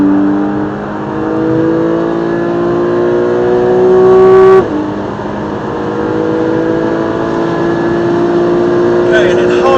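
A race car accelerates hard around Silverstone circuit, its engine note climbing steadily through the gears with a brief shift partway through, loud and continuous from start to finish.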